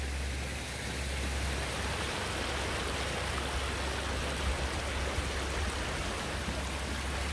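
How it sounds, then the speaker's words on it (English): A waterfall in a natural swim pond, with water tumbling through cascades and pools, gives a steady broadband rushing roar throughout, close and continuous, with no voices. "Let's go take a look at both the waterfall here"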